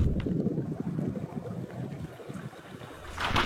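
Wind gusts across a snowy mountain lake in winter, a soft rumbling rush buffeting the microphone, steady and fairly faint with a slight swell toward the end.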